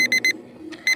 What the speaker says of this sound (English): We wake up in the morning by hearing the sound of alarm.